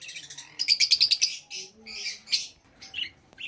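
Caged exotic pet birds such as lovebirds, sun conures and cockatiels chirp at a bird sale, rapid high tweets in quick bursts with brief pauses, close and clear, no talking.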